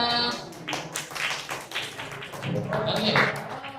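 Scattered hand claps from a small audience at a student thesis defense in a classroom, a brief, uneven patter of nearby taps and claps.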